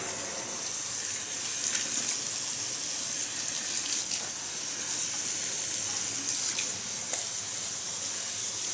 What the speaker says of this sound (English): Rinsing out the shampoo.